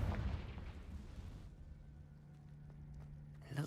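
Confringo fire spell blast in the Hogwarts Legacy video game, a loud booming explosion at the start that fades into a low rumble and echoey cave ambience.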